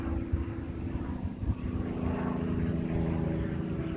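A World War II propeller plane drones overhead at the Akron, Ohio props and piston air show, a steady loud engine roar that holds for the whole stretch with only slight swells.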